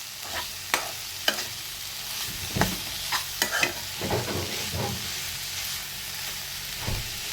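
Fenugreek leaves being stir-fried in a pan for a fenugreek and potato curry, with a steady sizzle punctuated by sharp, irregular scrapes and taps of a spatula against the pan, close and unaccompanied by talk.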